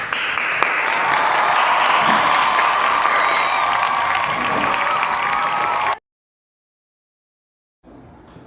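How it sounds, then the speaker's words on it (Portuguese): An audience applauds and cheers in welcome at a school history event, a full steady wash of clapping with raised voices that cuts off abruptly, followed by silence and a faint return. "uma salva de palmas para Zumbi dos Palmares"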